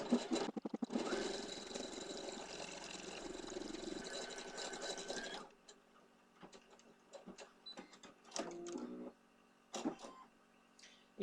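An embroidery machine sewing a tack-down stitch to hold backing, heard as a fast, dense mechanical chatter for about five seconds, then stopping, followed by quiet handling noises and soft clicks.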